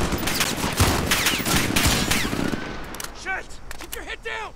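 Close, rapid bursts of gunfire in the video game Call of Duty: Modern Warfare for about three seconds, followed by quieter moments with scattered game sounds, while someone talks over it.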